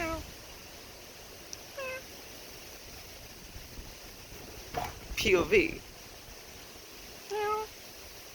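A person imitates a cat's meow, giving a few short, faint meow-like calls spread across the stretch with a slightly louder cluster midway, over a quiet outdoor background with some speech.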